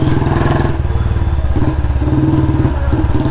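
Royal Enfield Bullet 350 engine misfiring while running low on petrol, a close, loud thumping idle whose steady beat stumbles and skips at irregular moments.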